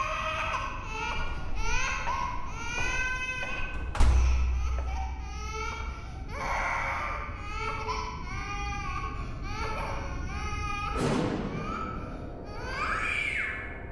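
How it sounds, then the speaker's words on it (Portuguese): A young child, sounding no older than six, cries in the background of a FNAF VHS tape, sobbing in repeated wavering wails with a heavy thump partway through, muffled and distant as if through old tape. "Dá pra ouvir o choro de uma criança ao fundo"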